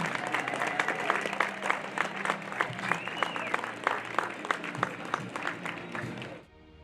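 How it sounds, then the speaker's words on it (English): Crowd applause with cheering at a high school baseball game, honoring the graduating 2023 North Catholic team. The clapping is steady, then tapers off sharply at the end, with faint voices mixed in. "another round of applause for the graduating 2023 North Catholic baseball team"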